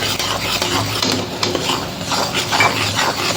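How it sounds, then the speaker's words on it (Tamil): A spoon stirs a chocolate mixture of butter and milk powder in a pan, making continuous close scraping and light clinking. The stirring keeps an uneven rhythm throughout, with no speech. "லம்ஸ் இல்லாமல் கிண்டி விடணும் நல்லா."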